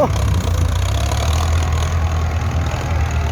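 A Ford tractor engine runs steadily up close while pushing soil to build up a rice-field embankment. It gives a continuous low, throbbing rumble that holds even for the whole stretch.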